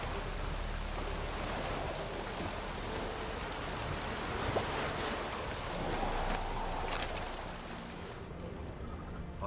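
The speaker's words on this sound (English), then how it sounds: "looks like rain" Steady rain falls in the medieval fantasy world of The Witcher 3, a continuous broad hiss of drops that holds evenly throughout with a few faint knocks and swells, no voices over it.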